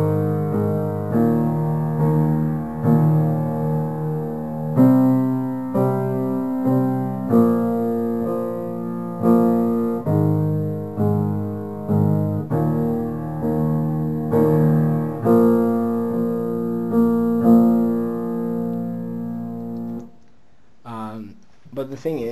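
Left-hand piano chords for the chorus of a song, played as steady repeated block chords in a regular pulse with sustained low harmonies, close and moderately loud, ending in a brief muffled shuffle.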